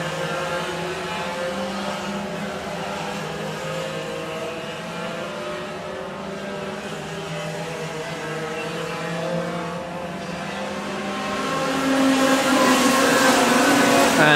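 Racing karts at the Clay Pigeon Kart Club championship lap the horseshoe corner in a steady, buzzing pack, engines droning continuously and swelling louder near the end as the group closes in.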